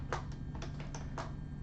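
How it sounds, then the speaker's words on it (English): Computer keyboard keys are struck in a few quick, light clicks at close range, broken by short pauses over a steady low hum, with no voices. "Oops, I'm typing something by accident."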